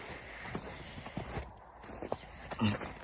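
Hooves clop slowly and unevenly nearby as draft mares walk over firm ground, with soft background noise throughout.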